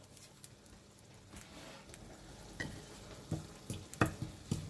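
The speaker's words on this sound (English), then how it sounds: "I can see that they're frying off" Asian pork balls fry in a hot pan with a soft, steady sizzle and scattered pops, quiet and close, interrupted by a few sharper clacks of utensils toward the end.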